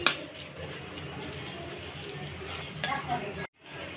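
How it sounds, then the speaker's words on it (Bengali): Kochu leaf vorta with lemon leaves is stirred in a pan in a village kitchen: soft, steady scraping and faint sizzling run under a quiet room tone, with a brief clatter near the end. "এখন লেবু পাতা নিয়ে 2 মিনিটের জন্য নাড়া দিয়ে দেব।"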